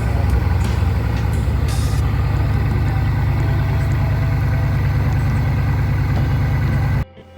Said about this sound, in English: this Bugatti Veyron is just casually driving